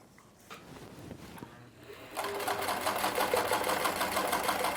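Singer Fashion Mate 239 sewing machine stitching steadily after a quieter start with a few handling sounds, its fast, even mechanical whir filling the second half at close range.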